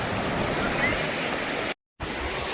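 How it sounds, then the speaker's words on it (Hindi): Sea waves at Gopalpur beach in Odisha make a steady, loud roaring wash of surf, briefly cutting out near the end before resuming. "ये देखिए, ये लहरें देखिए, ये कहाँ जाने की सोच रही हैं समुद्र की लहरें"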